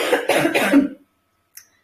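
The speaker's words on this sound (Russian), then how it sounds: "Процесс откашливания." A person coughs in a quick cluster of harsh bursts, clearing the throat during a laughter yoga session, followed by silence and a tiny click.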